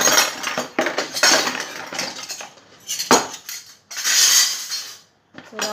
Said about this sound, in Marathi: माझा काय आवडता दिवस जातो का काय की भांडी लावण्यामध्ये